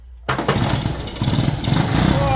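Old 1970 Honda US90 barn-find motorcycle engine cranking and catching briefly, a loud rough sputtering run that starts abruptly after a quiet moment and keeps chugging unevenly to the end.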